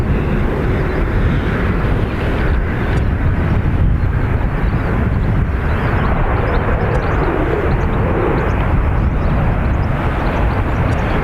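A Loganair Embraer jet departs Dublin Airport, its engines a loud, steady, continuous roar that stays strong for the whole stretch with no talk over it.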